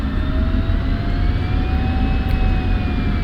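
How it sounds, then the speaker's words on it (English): F-16 jet engine in the DCS flight simulator spooling up as the throttle is advanced for taxi, a steady, loud broadband roar with a rising whine running continuously throughout. "So you just throttle up."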